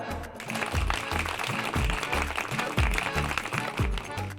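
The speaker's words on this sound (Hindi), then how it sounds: "जोरदार तालियां।" A loud audience claps at a televised competition on stage, a dense wash of applause running under a heavy, rhythmic booming drumbeat.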